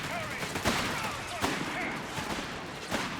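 Gunfire in the World War II strategy game Company of Heroes 3, a 1v1 match where a Stormtrooper squad engages: scattered shots and bursts crackle under steady battle noise, with speech faintly mixed in.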